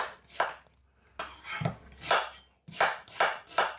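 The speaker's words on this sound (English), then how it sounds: "you have to cut them up for them to hold in the blender" Knife chopping ingredients for a Caribbean-style jerk salmon marinade, cutting them small on a board: sharp, close chops in uneven bursts of three or four strokes separated by short pauses.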